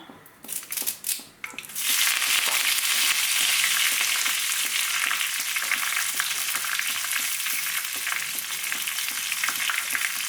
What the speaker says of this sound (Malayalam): കടുകൊന്ന് പൊട്ടി വരുന്ന സമയത്ത് നമുക്കിതിലേക്ക് ഉണക്കമുളക് ഇട്ട് കൊടുക്കാം.